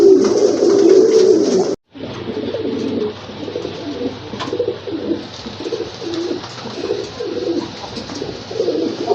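Silver dom pigeons offered for sale coo steadily and close, a low throaty murmur running almost without a break from start to end, with one brief gap near the beginning.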